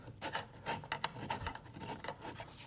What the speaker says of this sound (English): What I like to do is take my file right here and try to file the edge on it.